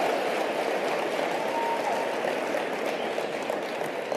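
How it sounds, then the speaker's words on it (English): Steady, muffled applause from the audience at a motivational speech, a continuous even roar of clapping with no clear individual claps standing out. "Give her a round of applause"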